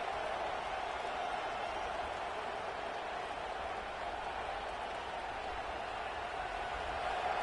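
Steady roar of a stadium crowd in the College Football 26 video game, a dense continuous wash of cheering that holds at an even loud level throughout with no distinct voices standing out.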